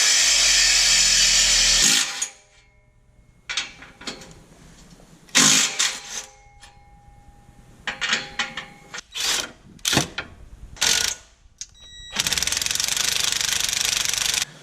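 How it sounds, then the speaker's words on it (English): A power saw with a metal-cutting blade cuts through exhaust pipe while a Corsa Extreme catback and headers are fitted to a 2016 Mustang GT. Loud, harsh grinding opens and closes the clip, with shorter bursts and pauses between. "let's actually use a metal blade on metal."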